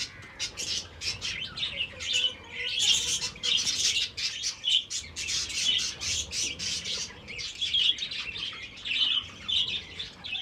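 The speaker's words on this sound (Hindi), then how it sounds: "अभी कबूतर खोले हैं, कबूतर दाना पानी खाएंगे" Pigeons and budgerigars in an aviary chatter and chirp continuously while feeding on grain and drinking water, with dense overlapping high tweets and occasional wing flutters, fairly close and steady throughout.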